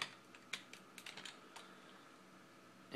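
Fingers typing on a computer keyboard, a quick irregular run of close, light key clicks with no voices.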